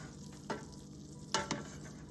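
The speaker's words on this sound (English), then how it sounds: "let's give the broccoli a stir" Broccoli and sorrel frying in a pan, a soft steady sizzle beneath a few distinct scraping stir strokes from a utensil, close and fairly quiet, with no voices.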